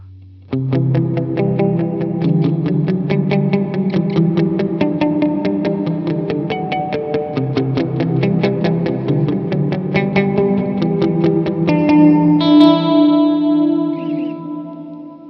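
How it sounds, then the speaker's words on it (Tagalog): An electric guitar runs through a Line 6 POD GO using reverb and delay, its rapidly repeated plucked notes ringing out loud and sustained with echoing repeats, ending in a held, shimmering chord that decays. "Lagyan natin ng reverb."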